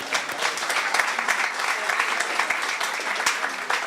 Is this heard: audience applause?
yes